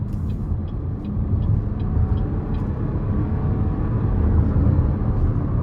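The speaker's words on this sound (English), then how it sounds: "I'm just gonna give it a little throttle here in sport mode, but not too much." A 2023 Chevrolet TrailBlazer ACTIV with the 1.3-litre turbo engine accelerates gently in sport mode, a low, steady engine rumble and road noise from inside the cabin that grows slightly louder, with a few faint ticking sounds early on.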